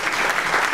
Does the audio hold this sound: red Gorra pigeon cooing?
no